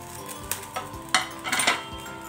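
Chopped onions tipped into hot mustard oil in a pan for bhindi (okra) sabzi, giving a few sharp utensil clinks and then short, bright sizzling bursts close by, with no talking.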